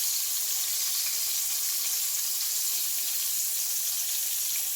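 Okra frying in very hot grease, a loud, dense, steady sizzle that holds unbroken throughout, close up and with no talk.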